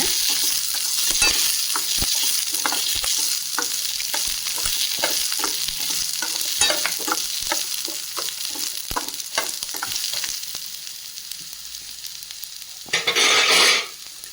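Green chillies, dried red chillies and onion sautéing in a pan, giving a continuous bright sizzle with repeated spatula scrapes and a brief louder hiss near the end.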